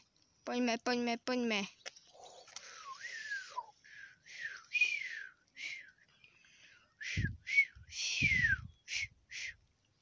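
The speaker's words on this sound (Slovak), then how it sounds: "Viem trošku zapískať, ale neviem akurát správne" A person tries to whistle, producing short, breathy, uneven whistled notes and airy sputters close to the microphone, with a few soft voiced syllables and breaths mixed in.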